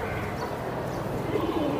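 Pigeons kept for sale, giribaz breed, coo softly and low in a short continuous burble, moderately close, with faint background murmur and no clear talk.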